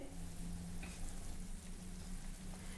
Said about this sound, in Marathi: हे बघा याला छान खडखडून उकळी आली आहे